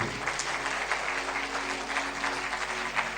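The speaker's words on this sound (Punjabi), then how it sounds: "ਤਾਲੀ ਮਾਰੀਏ ਜ਼ੋਰ ਦੀ" A congregation at a sermon applauds loudly and steadily, a sustained wash of clapping with a faint low hum underneath and no speech.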